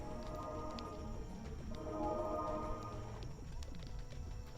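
Pigeon-like cooing from a frozen bird in a video game, low repeated coos running steadily through a soft ambient game soundscape, moderately faint and unaccompanied by talk.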